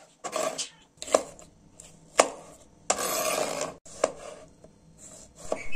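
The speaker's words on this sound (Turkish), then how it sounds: "Büyüklüğüne göre 4-5 tane patateslerimizi dilimliyoruz" A knife slicing potatoes and peppers on a board, about half a dozen crisp, uneven cuts close by, each a short sharp chop with a brief scraping stroke in the middle.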